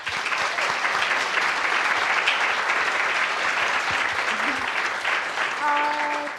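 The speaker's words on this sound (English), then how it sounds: "please give her a warm round of applause" A conference audience at PyCon Italia 2023 applauds in a steady, dense wash of clapping that holds loud for about six seconds, with a brief tonal hum near the end.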